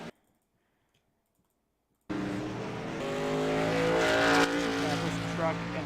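Race truck spinning out in a racing video game, silence then an abrupt loud burst of engine roar with harmonic whine and tire squeal, sustained and rising in intensity.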